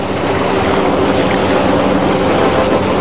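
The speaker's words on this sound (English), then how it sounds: "the waves are splashing," Waves splashing at the sea, a dense, continuous wash of surf with steady roar and wind noise, loud and close with no voices.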